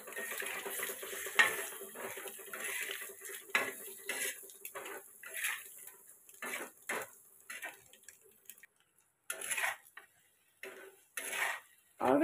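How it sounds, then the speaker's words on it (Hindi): Boiled eggs being stirred into homemade masala in a pan at home, heard as scattered close scrapes and clinks of a spoon against the pan, with short bursts and quiet gaps between. "अब हम इसे नीचे ऊपर करके मिक्स कर लेंगे।"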